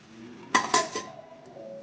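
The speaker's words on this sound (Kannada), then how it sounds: "ಇವಾಗ ಸ್ಟವ್ ಆಫ್ ಮಾಡಿ ಲಿಡ್ ಕ್ಲೋಸ್ ಮಾಡಿ ಇಡ್ತೀನಿ." A metal lid is set onto a pot of sabudana phirni once the stove is off, giving a few quick close clanks and rattles over about half a second before the pot settles quiet.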